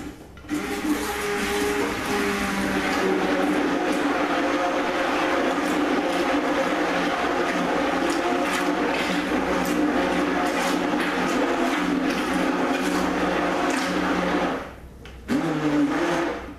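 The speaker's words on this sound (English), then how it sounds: "Now I'm going to get my stick blender ready." A stick blender runs continuously in a batch of cold process soap, a loud close motor whine with a steady hum, briefly cutting out near the end before starting again.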